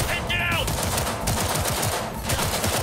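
Gunfire from a firefight in the video game Cyberpunk 2077, with a rapid stream of close shots repeating steadily over a dense, noisy game soundtrack.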